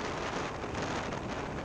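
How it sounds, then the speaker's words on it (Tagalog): Strong wind buffets the microphone outdoors while riding a motorcycle to the MotoGP race at Sepang, Malaysia, a dense, steady roar filling the whole moment with no voices. "Ang dami po hangin eh."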